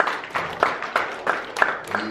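A church congregation keeps up rhythmic hand clapping in praise at a Sunday service, a steady pulse of claps roughly every third of a second, with voices under it.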